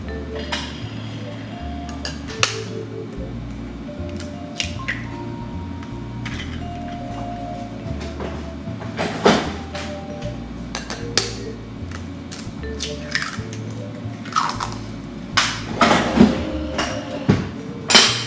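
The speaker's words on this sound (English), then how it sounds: "You can go ahead and just whisk it." Butter, sugar and two eggs whisked in a bowl for banana bread, a steady close scraping and clinking of the whisk against the bowl with sharp taps standing out, getting busier toward the end.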